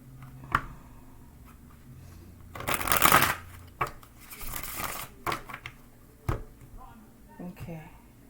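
Tarot cards shuffled by hand, with several quick riffling bursts and scattered taps between, close and fairly loud, with a voice talking softly in between.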